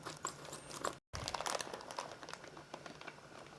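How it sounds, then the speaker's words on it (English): A plastic bag of shredded coconut is torn open and handled, close crinkling and crumpling in quick bursts with a brief tear, no talk. "I'm going to open up this bag of coconut."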